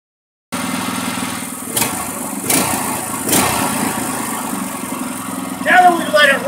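A Predator 212 small engine running steadily during its break-in period, a continuous near mid-pitched engine drone with a few brief louder bursts, and a voice briefly audible near the end.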